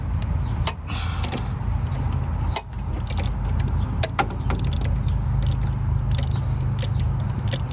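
Wrench working loose the alternator bolt on a Honda Accord, close metallic clicks and creaks over a steady low mechanical hum, with several sharp knocks spread through.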